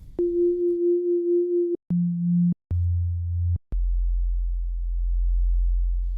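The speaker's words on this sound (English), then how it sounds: "Let's go ahead and start from a sine today." A pure, steady synthesized sine wave tone holds, then drops in pitch step by step through several sustained notes, each change marked by a small click.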